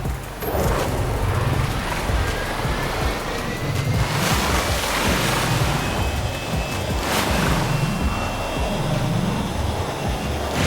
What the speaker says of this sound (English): I'm gonna turn off the waves.